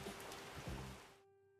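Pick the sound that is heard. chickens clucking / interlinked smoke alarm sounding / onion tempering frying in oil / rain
rain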